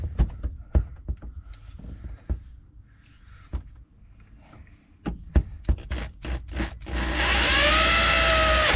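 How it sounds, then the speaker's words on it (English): Scattered knocks and scrapes on wood, then a power drill whirs loudly and steadily near the end, drilling in a 1979 GMC G25 Vandura van. "So to do that, I got my handy little drill here."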